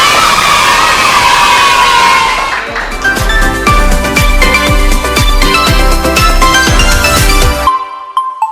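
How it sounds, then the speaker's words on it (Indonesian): A classroom audience of university students bursts into loud cheering and shouting, then shifts into rapid, rhythmic clapping that stops abruptly near the end. "Tepuk tangan."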